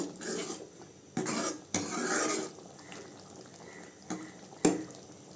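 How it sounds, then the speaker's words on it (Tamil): Sundakkai kuzhambu stirred in a pot after grated coconut is added: a few distinct scraping, clinking strokes of a spoon against the pot, close and fairly quiet, separated by brief pauses. "இப்போ தேங்காய் சேர்த்துக்கலாங்க கிண்டி விட்டுக்கோங்க"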